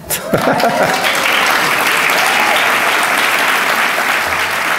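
A large audience at the Orlando mayor's State of the City address breaks into loud, sustained applause, with a few voices briefly audible at the start before the clapping fills the hall steadily.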